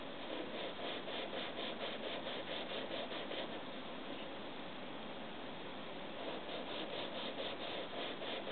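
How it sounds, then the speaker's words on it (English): Engraving burin ground against a sharpening stone, a continuous dense scraping rasp with a faint back-and-forth pulse, close and steady throughout with no voices. "I sharpen the burin by grinding it against a sharpening stone."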